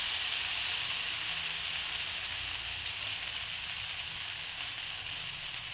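Thin rava dosa batter sizzles steadily on a hot pan, giving a constant bright crackling hiss with no break, close up and with no talking.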